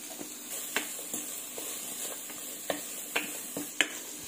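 Onions softening in hot oil with a little turmeric keep up a constant sizzle, while a spoon stirring them taps and scrapes against the pan in scattered irregular clicks, close up, without any talking.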